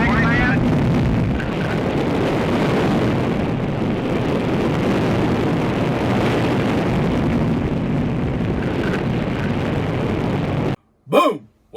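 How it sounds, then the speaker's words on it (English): Launch of the Army's Jupiter C rocket on America's second attempt to put a space satellite in orbit: a loud, steady, broadband roar that rumbles on for about eleven seconds, then cuts off abruptly before a brief voice is heard. "the Army's Jupiter C rocket is ready for America's second attempt to launch a space satellite"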